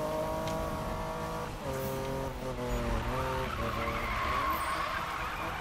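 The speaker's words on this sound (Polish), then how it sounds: "Ciężko jest naprawdę teraz ten drift wejść." Car drifting in Need For Speed 2015 video game, sustained tire squeal over a revving engine that dips and climbs as the slide continues, fairly faint and without talking.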